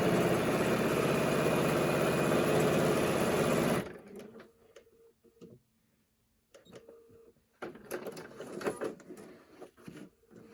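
A sewing machine stitches a 1/4 inch seam on a pleated fabric mask, running steadily for about four seconds and then stopping, followed by quieter handling sounds of the fabric layers being lined up.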